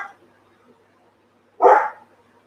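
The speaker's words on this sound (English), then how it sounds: "having a good old bark outside" A dog barks outside, one muffled mid-distance bark after a faint yip at the start, otherwise quiet.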